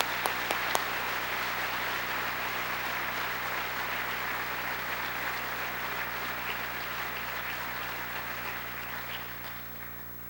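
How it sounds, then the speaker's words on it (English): Sustained applause at a 1995 basketball centennial reception honoring former Minneapolis Lakers players from the class of 1950. The clapping stays even and full for ten seconds, with a few sharp claps at the start, then slowly fades. "Would you all stand, guys,"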